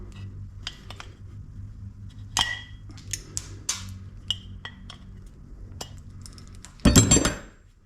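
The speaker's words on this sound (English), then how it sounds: "Take our valve stem out now." A valve stem is worked out of a riding mower tire, giving light metallic clicks and scrapes spaced irregularly over a low steady hum, then a short burst of louder rattling clatter near the end.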